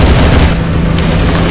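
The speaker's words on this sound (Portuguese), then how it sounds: "Os efeitos sonoros das armas são excelentes" Heavy weapon fire in a PlayStation 2 shooting game, a loud, dense, continuous roar of gunfire and blasts filling the whole moment with no pauses.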